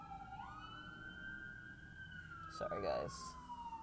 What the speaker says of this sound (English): More sirens. Gosh, that was like three trucks.